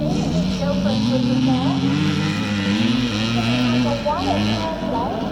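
A Czechoslovakian CZ motorcycle races in a classic scramble, its two-stroke engine buzzing and revving up and down nearby alongside other bikes, with a commentator talking over it.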